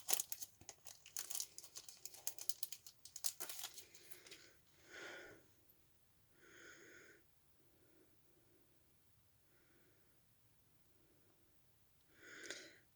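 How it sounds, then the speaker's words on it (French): Adhesive acrylic word embellishments from a scrapbooking box being unwrapped: a burst of crinkly plastic tearing and rustling at the start, then scattered soft handling rustles and small taps, close and quiet, with no one talking. "Je vais les déballer pour vous montrer ça de plus près."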